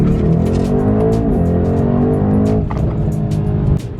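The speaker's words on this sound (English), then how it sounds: "I love the way this car sounds so much and how freaking fast it is" A fast car accelerates hard on the road, its engine roaring loud and close with rising, shifting tones and a brief drop near the end.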